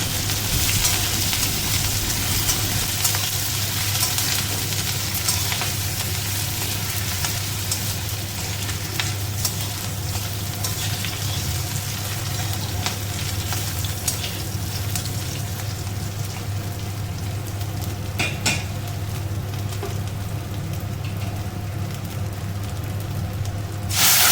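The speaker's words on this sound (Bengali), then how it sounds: "কাঁচা লঙ্কা আর আদাটা দিয়ে দিলাম এর মধ্যে খুব ভালো করে ভেজে আমি এর মধ্যে ডালটা ফোড়ন দিয়ে দিচ্ছি" Ginger and green chili fry in hot oil while tempering dal, producing a long, even hiss of sizzling that stays constant and fairly loud, with a faint low hum beneath and no speech.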